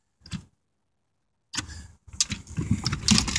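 A 1987 Chevrolet Corvette C4 with a nearly dead battery tries to crank, giving a short click, then silence, then uneven rattling, ticking bursts of a struggling starter that grow louder toward the end. Nobody speaks.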